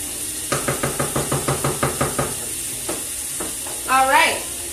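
Corn simmers in a pot on a stovetop turned down to low, a steady sizzling hiss under a rapid, even run of about a dozen spoon taps against the pot, then a few scattered knocks and a brief rising clatter.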